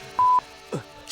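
Two short electronic dialing beeps sound in quick succession, followed by faint clicks and a brief noise at the end.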